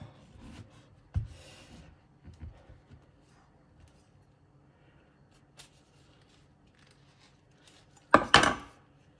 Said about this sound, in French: Je prends l'avocat, je le coupe en deux.